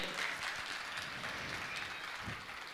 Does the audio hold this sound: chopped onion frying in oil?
no